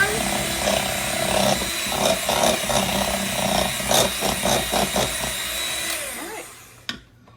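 An electric mixer beats banana bread batter made with butter, whirring steadily with rhythmic pulses as the beaters hit the bowl, then winding down and stopping near the end with a clunk.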